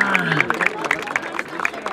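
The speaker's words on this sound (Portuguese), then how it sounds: "Palmas pra essa batalha!" A crowd claps and cheers at a rap battle in Barueri, a brief burst of scattered applause with babble and a voice talking over it.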